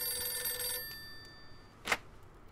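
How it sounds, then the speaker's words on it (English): A telephone ringing in the Mafia 2 video game, a bright bell ring that cuts off partway, followed by quiet and one short sharp tone. "Okay, telephone, telephone, telephone."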